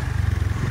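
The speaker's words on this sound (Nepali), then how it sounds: "त्यो बाइक" A motorcycle engine runs with a steady, throbbing low rumble for under a second, fairly close and loud, with no talk over it.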